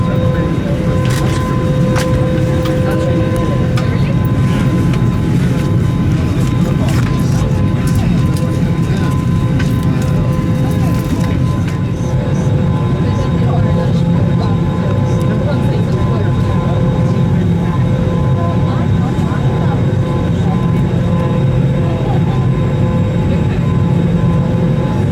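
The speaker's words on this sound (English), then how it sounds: "I am on board my flight back to London on a British Airways A321neo." Steady, loud engine drone and rushing air inside the cabin of a British Airways Airbus A321neo airliner, a constant low roar holding for the full length with no break.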